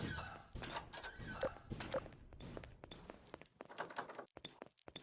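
Repeated heavy thuds and knocks as Dr. Coomer batters at a door blocked with a chair in Garry's Mod, irregular bangs with scraping in between, moderately loud and close.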